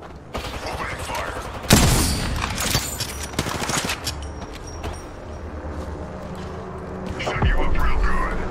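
Gunfire in a video game, with bursts of rapid shots and mechanical clicks among rumbling game noise, while voices talk over it.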